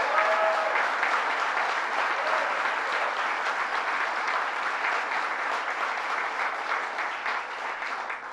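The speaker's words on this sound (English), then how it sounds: "Let's give Mike Hine a big round of applause." Crowd applauding a county executive at a governor's public announcement event, a loud sustained wash of clapping lasting several seconds that fades slightly toward the end, with no one talking.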